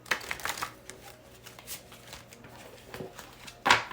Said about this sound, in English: One more shuffle for the Moonology.